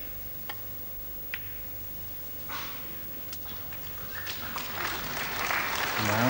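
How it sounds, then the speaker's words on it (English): A snooker match audience applauds, starting with a few isolated clicks and scattered claps that swell into steady applause building toward the end. "although it gets applause from the audience"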